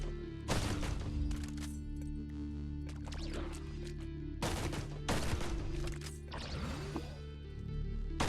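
Gunfire aimed at plastic balls in the game Caves of Qud: several sharp, loud shots in separate bursts with ringing tails, spaced a second or two apart and heard alone.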